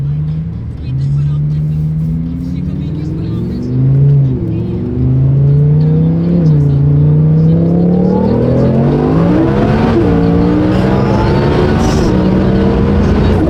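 A BMW G80 M3 making about 875 wheel horsepower runs a third-gear street pull, its engine roaring loud and close and climbing steadily in pitch throughout.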